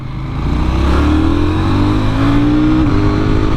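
A KTM 990 motorcycle engine revs close by with a loud, rising tone as it accelerates through the gears, with a brief shift dip near the end.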